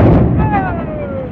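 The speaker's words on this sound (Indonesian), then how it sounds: "Barusan terjadi ledakan di pada tangki." A loud, deep booming rumble from an explosion in a tanker's tank in dry dock, with a thin whine sliding downward as the roar slowly fades.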